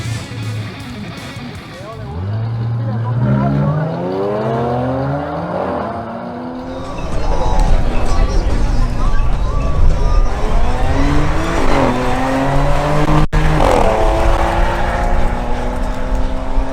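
A 2023 Audi S3 on a drag racing run, its engine climbing through repeated rising gear sweeps, loud and near, with a commentator's voice running over the roar.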